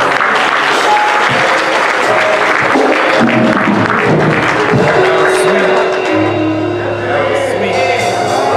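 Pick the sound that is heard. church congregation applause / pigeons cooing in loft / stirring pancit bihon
church congregation applause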